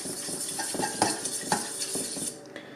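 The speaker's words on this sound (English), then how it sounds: "And now I like to just kind of mix up the egg and the milk together." A fork clatters briskly against a bowl while whisking egg and milk together, a quick irregular run of close metallic clicks and scrapes that stops short near the end.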